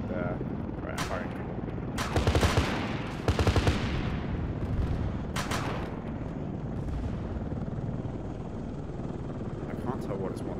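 Apache attack helicopter cannon fire in a Desert Storm combat video game, several loud rattling bursts over a constant rotor drone, with someone talking over it.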